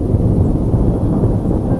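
Thunder in an example recording, a loud, continuous low rumble with dense bass energy and little high end, rolling steadily without pause.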